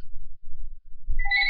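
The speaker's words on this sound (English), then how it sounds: "the phone's ringing" A telephone rings in a quiet room, its bright electronic tone starting near the end after a few low soft thumps, loud and close with no voices.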